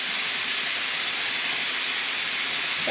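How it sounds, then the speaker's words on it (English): A pressure cooker at full pressure spits and hisses steam in a loud, continuous, close rush that never lets up. "pressure cooker is up to pressure. I'm going to back down the heat just till it's, let me show you, it's spitting pretty good"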